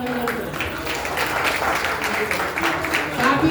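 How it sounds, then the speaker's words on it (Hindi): Audience applause at a Hindu religious discourse on Radha Ashtami, a dense continuous patter of many hands clapping together, steady and fairly loud, filling the whole stretch. "एक बार सब लोग तालियां बजा के उनका अभिनंदन करें"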